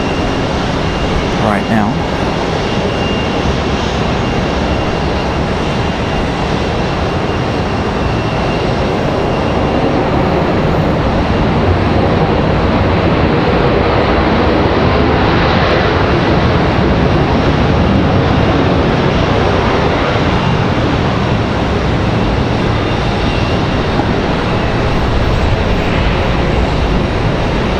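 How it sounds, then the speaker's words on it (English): An American Airlines 737-800 arriving from Dallas Fort Worth touches down at Raleigh Durham airport, a loud, steady engine roar and rumble filling the whole stretch while someone talks over it. "We've got American 1888 coming in from Dallas Fort Worth. 737-800 touching down"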